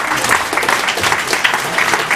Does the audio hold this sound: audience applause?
yes